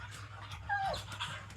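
A pet dog vocalizes nearby, with quick panting breaths and a brief high whine, fairly faint.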